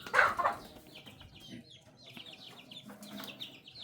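Chickens clucking on a Thai farm as they are fed, with a close, loud burst of clucks at the start followed by softer, scattered clucks and rustling.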